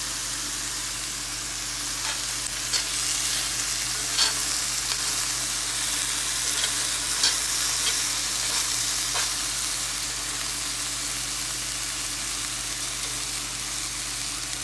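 Marinated steak searing in a hot pan before going into the oven, a steady, fairly loud sizzle holding throughout with a few faint crackles and pops, no voices.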